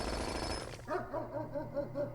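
A jackhammer effect from the video game Blue Prince rattles out in quick repeated pulses after a noisy start, a mechanical chattering rhythm at moderate level with no talking.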